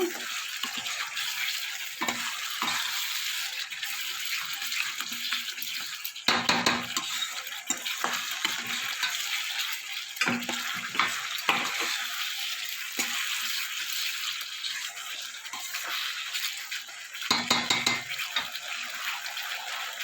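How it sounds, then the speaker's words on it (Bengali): Kadai paneer masala with salt being stirred and fried in a pan, a steady close sizzle broken by repeated scraping and clinks of a spatula against the metal, with no talking. "এবার কিছুক্ষণ নাড়াচাড়া করে নেবো।"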